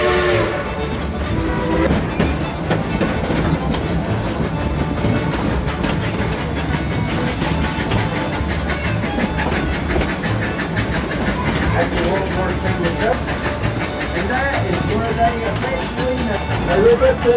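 Dollywood Express steam train No. 70 running on a heritage railroad, a steady dense rumble and clatter of the locomotive and cars throughout, with a faint voice now and then in the background.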